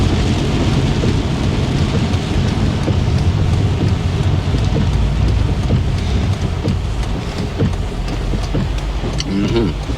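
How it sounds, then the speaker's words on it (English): Heavy rain falls steadily during a drive in Jamaica, a loud continuous wash of rain drumming on the car, with road and engine rumble underneath and no break in the downpour. "It's raining fast, it ain't raining slow."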